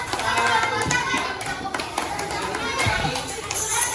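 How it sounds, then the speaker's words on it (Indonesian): Children in a primary school classroom clap together, a dense, continuous patter of many hands with children's voices mixed in throughout. "beri tepuk tangan dulu untuk Kaila dari kelompok satu"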